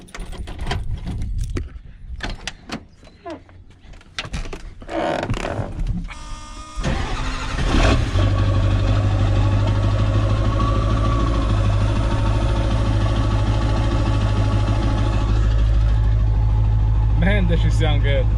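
A Ford Super Duty pickup truck engine cranks and fires after some rustling and handling noises in a garage, then settles into a loud, steady, deep idle that continues to the end with occasional light clatter.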